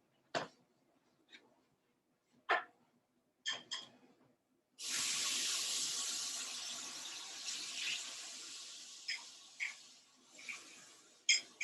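Tap water runs in a steady hissing stream from about five seconds on, rinsing out a container for ink wash painting, after a few short clinks and knocks; the flow wavers in loudness before several brief splashes and bumps near the end.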